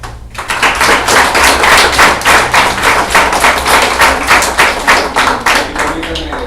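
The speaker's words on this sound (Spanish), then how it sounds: "así que un aplauso para ustedes." Audience in a reading club gathering clapping together, a brisk burst of dense, rhythmic hand claps that holds steady for several seconds before easing slightly, loud and close in the room.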